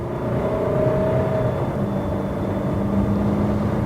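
A Fiat Toro pickup truck pulls away from a standstill, its engine droning steadily and climbing through the revs, close and continuous with no talking over it.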